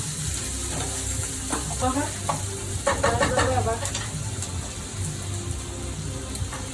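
Onions and liver fry in a pan with a steady close sizzle, while a utensil stirs through them and adds a busier clatter in the middle. No one talks.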